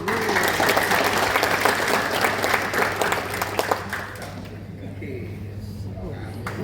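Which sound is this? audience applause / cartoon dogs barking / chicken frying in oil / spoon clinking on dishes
audience applause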